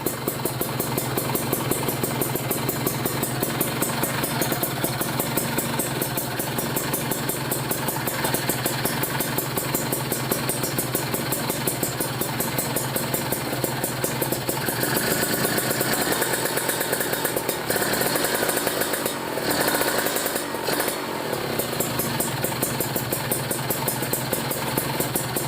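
Motorcycle idling with an aftermarket R9 or Aitech long carbon silencer, a steady, close, continuous low burble running throughout without revving.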